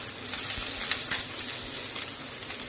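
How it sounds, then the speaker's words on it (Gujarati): Green onions sizzle in a pan over high heat, giving a steady, crackling hiss with small popping bursts and occasional stirring scrapes, close and continuous, with no talking. "આને આપણે થોડીક વાર સાતળી લઈશું. ખાસ ગેસે સાતળવાનું છે"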